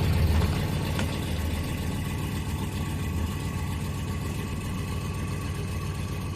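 A Ford truck engine idling with the choke fully closed, holding a steady, even low rumble throughout with no revving.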